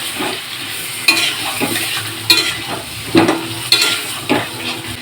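Fish masala for biryani sizzles in a pan, with loud, close, rhythmic stirring strokes scraping the pan about once a second over a continuous frying hiss.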